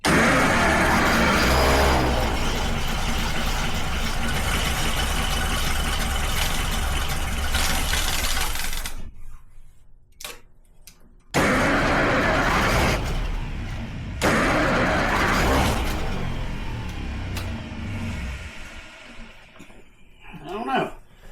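A carbureted engine idles roughly and never climbs into a rev, a steady loud running sound broken by a few sudden drops to near silence partway through.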